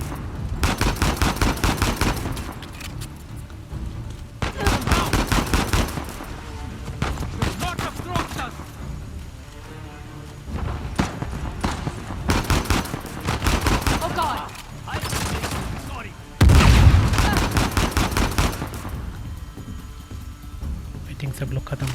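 Repeated bursts of gunfire in the video game Uncharted: The Lost Legacy, Chapter 6, come as loud clustered volleys separated by short lulls, with someone talking between and over them.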